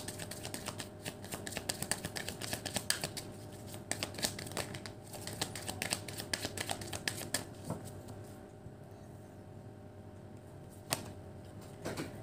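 Angel oracle cards shuffled by hand before closing a reading, a steady run of close, crisp riffling clicks lasting several seconds, growing sparser toward the end, with no talk over it.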